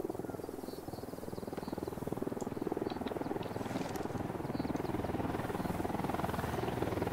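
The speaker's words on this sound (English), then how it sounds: "Chopper above me." A helicopter circling overhead in Ghost Recon Wildlands, its rotor a fast steady chop thrumming loudly and unbroken throughout, with faint game ambience above it.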